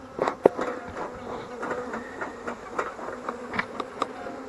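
Honey bees buzz steadily during a February hive inspection, a continuous insect drone with sharper passes as individual bees fly close, and no talk.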